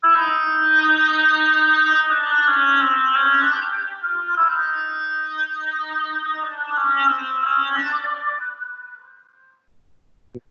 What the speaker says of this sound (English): Now, here's the oboe,